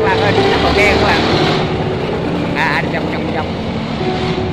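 A wooden boat's motor roars loudly and steadily, rising in pitch as the throttle opens to push an overloaded boat through a drain against a strong current, with a voice calling out over it.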